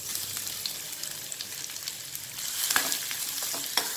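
Cumin and onion frying in a little oil for onion samosa filling, a steady close sizzle with a few light stirring scrapes near the end, no voices.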